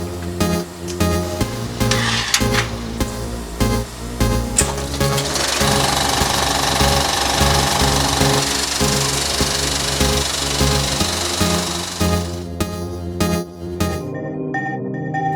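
Platter-based film projector running, a loud, steady mechanical clatter of gears and rapid rhythmic rattling that continues throughout before cutting off near the end.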